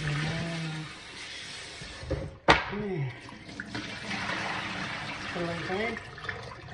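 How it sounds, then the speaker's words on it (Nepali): Water is poured a little at a time during food preparation, a splashing liquid stream rising and falling with a sharp splash midway, under a person talking. "अलिअलि पानी हाल्छु,"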